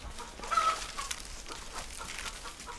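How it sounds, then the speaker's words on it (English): Backyard chickens clucking softly while pecking at leftover coconut pulp from coconut cream making, a few faint scattered clucks close by over quiet outdoor ambience. "We're taking the coconut pulp that was left over from making the coconut cream to feed the chickens."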